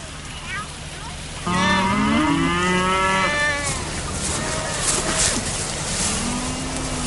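Dairy cows on a Japanese farm moo loudly and close by, one long drawn-out call followed by softer lowing from others over a constant droning hum in the barn.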